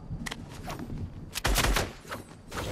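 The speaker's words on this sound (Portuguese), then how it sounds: "Você atirou sem querer." Gunshots in the video game Fortnite: a few sharp cracks early on, then a louder, heavier burst in the middle, with more scattered shots after it.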